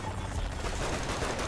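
Rapid, continuous pistol gunfire from the video game Saints Row the Third, a dense string of shots crowding together without a break throughout.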